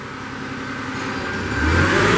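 A 2015 Moffett M55.3 truck-mounted forklift's engine hums steadily close by, with its hydraulic pump and wheel motors whirring, rising and growing louder toward the end.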